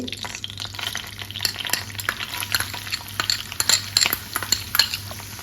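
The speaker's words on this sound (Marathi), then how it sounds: "ते चांगलं परतून घेऊया। हा आपण कांदा टाकायचा आहे।" Onion sizzles steadily in a hot pan with cardamom, while a spoon stirs and scrapes against the metal in quick irregular clicks, loud and close with no talking.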